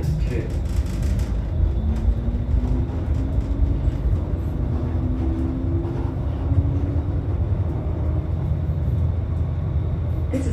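A Bombardier light rail car on the ETS Valley Line runs southbound, giving a steady, loud interior rumble with faint rising motor whine throughout and no breaks.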